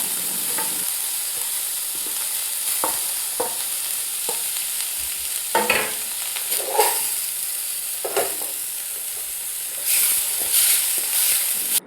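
Onions and garlic fry in a pan under a steady, bright sizzle, with occasional scraping and clinking of a stirring utensil spaced through it, close and continuous with no voices.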